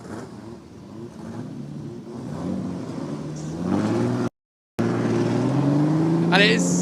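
Historic racing cars at a 1966 celebration grid accelerating away, engines revving and climbing in pitch, loud and close, with someone talking over the roar.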